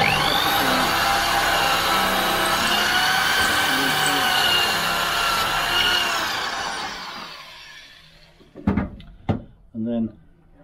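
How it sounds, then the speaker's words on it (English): A power drill bores pocket holes in wood during a narrowboat fit-out, a loud steady high whine for several seconds that winds down, followed by a few short knocks and a voice. "Again, just let the drill rest in there. Don't start it drilling until it's in."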